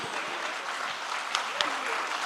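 An audience at a social impact summit applauds a young speaker, a continuous crowd clapping with a few sharper individual claps standing out, while a voice talks over it.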